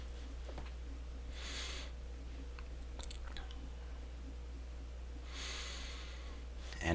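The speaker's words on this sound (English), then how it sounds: "And we're breathing" Slow breaths come close to the mic, with two soft, drawn-out airy swells several seconds apart over a low steady hum.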